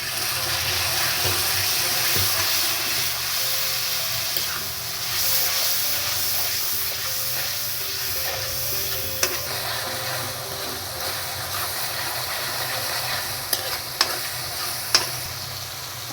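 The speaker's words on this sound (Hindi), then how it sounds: "मसाले को भून लेंगे।" Spiced dalia khichdi masala with turmeric, salt and a splash of water fries in a pan, hissing and sizzling steadily while a spoon stirs it, with a few sharp scrapes and clinks near the end.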